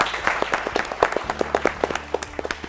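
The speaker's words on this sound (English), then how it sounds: "Let's clap for them, please." An audience at a national quiz competition claps to welcome a school team on stage, a moderately sparse patter of hands with distinct individual claps over a low background hum.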